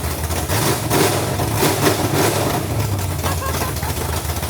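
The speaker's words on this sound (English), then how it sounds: "It's just open headers right now, so it's just freaking loud as can be, which I love." A 1971 Ford Maverick idling loud and rough on open headers with no exhaust, a dense, steady low rumble filling the whole stretch at close range.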